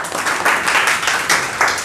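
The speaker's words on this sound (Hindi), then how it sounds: "सबसे पहले आप सब लोग अपने लिए जोरदार तालियां बजाइए" A room of students gives loud, sustained applause at a certificate session, dense clapping that swells in a few waves over about two seconds.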